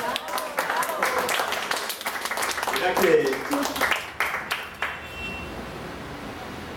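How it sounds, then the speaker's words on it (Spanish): Audience applause for Herminda, author of the book "Veleros en el viento", fills the room as a steady patter of many hands, with a voice talking over it before the clapping thins out. "Un aplauso para Herminda, de verdad."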